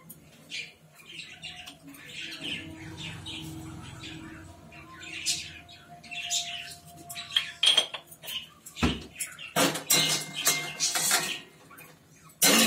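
A lid is set onto a cooking pot on a home stove where salted food is boiling, giving a few clattering metal knocks and clinks near the end, with soft kitchen background noise and a brief bird-like chirp.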